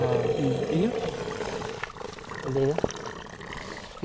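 Spring water and trapped air rush through a buried pipe with a low roaring, moaning drone that rises and falls in two bursts, under outdoor background noise.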